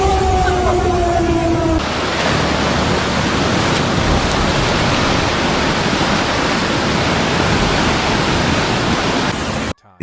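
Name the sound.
floodwater rushing in a churning river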